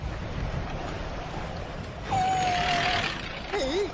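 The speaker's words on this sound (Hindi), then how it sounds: "कितनी तेज हवा चल रही है" A strong wind gusts in a Shinchan cartoon scene, a rushing whoosh that builds midway, joined by a whistling tone and a short wavering sound effect near the end.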